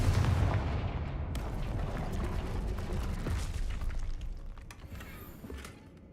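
Confringo fire blast spell in Hogwarts Legacy: a loud booming burst with a roaring, rumbling tail that fades over several seconds.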